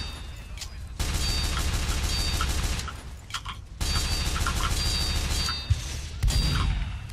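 Rapid gunfire and booming hits from a shootout at a sentry in the video game Team Fortress 2, dense and loud for most of the stretch, broken by brief lulls, with sharp bursts near the end.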